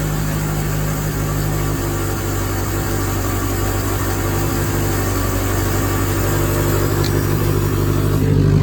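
A 1977 Chevy LUV pickup engine idles steadily and close by, a continuous low rumble with a slight rise in revs near the end and no talking.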